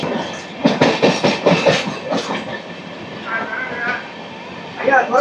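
The 16103 Pamban Express passenger train runs along the rails with loud rhythmic clickety-clack wheel beats near the start, settling into a steady rumbling roar with a few more clacks at the end, heard from on board.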